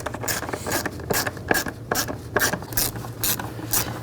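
Close, steady ratchet clicking as a hand tool snugs down the screws on the engine cover of a 2010-16 Buick LaCrosse during spark plug work. The rapid pawl ticks repeat in even strokes with no talking.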